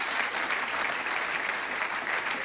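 A crowd at a 1989 Coca-Cola Classic bowling match applauds, a dense, steady patter of clapping that holds for a couple of seconds at moderate distance.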